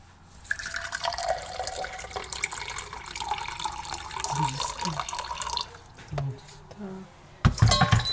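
Warm water poured for making dough for fried cabbage pirozhki in a home kitchen, a steady splashing pour running for several seconds with a few clunks and knocks near the end.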